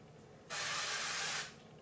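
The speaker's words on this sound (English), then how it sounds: "I have the extra virgin olive oil spray" Extra virgin olive oil sprayed from a can onto a banana bread baking pan, a single close hissing burst of about one second that tapers off.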